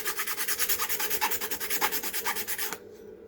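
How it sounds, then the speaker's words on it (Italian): Rhythmic, close rasping of a file working back and forth over a drilled plastic object to remove excess material, steady strokes for nearly three seconds before stopping. "L'ho forato, lo posso limare."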